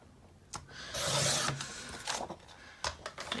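Pink paper is trimmed for a card, giving close, dry rasping and slicing strokes, one longer cut followed by several short scrapes and taps, with no talk.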